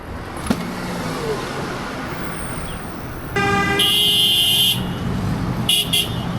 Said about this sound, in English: Traffic here is pretty chaotic though.